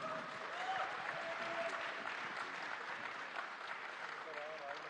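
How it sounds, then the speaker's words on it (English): An audience at a panel on Indian cinema and film studios gives a round of applause, a sustained even wash of clapping heard at moderate distance, with faint voices underneath. "I think it deserves another round of applause"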